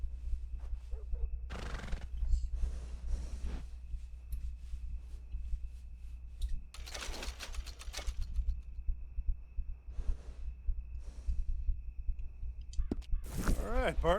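Several distinct horse whinnies in the video game Red Dead Redemption 2 sound at intervals over a low steady hum, with faint hoof clops in between.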